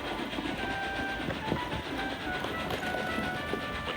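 A small engine pulling a train along a branch line, a steady rolling rumble with rhythmic rail clatter and faint tonal squeal, moderately close and without talk.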